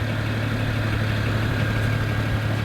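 BMW 1M Coupe engine idling after a cold start, a steady low droning hum with an even rumble, close and unbroken for a few seconds with no voices.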